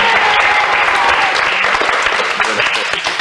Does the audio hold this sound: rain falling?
no